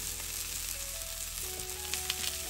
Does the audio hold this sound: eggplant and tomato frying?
yes